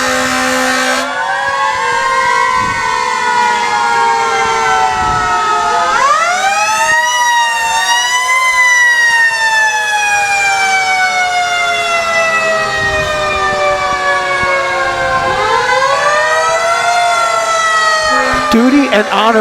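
Malaga Volunteer Fire Department fire trucks in a Christmas parade blaring wailing sirens that rise and fall in overlapping sweeps, loud and close, with horn blasts and some crowd or announcer talk underneath.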